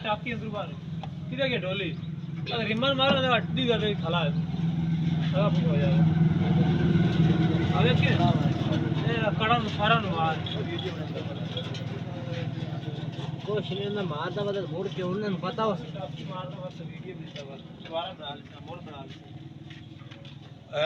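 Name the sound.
New Holland 640 tractor engine running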